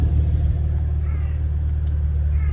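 A 2018 Porsche Macan GTS idles with a steady, deep exhaust rumble that stays loud and even, with no revving and nobody talking.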